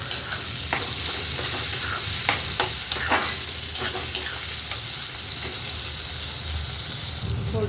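Tomato, dry coconut and garlic sizzle and fry in a pan while being stirred, with irregular scraping strokes over a steady broadband hiss, close and fairly loud, with no talking.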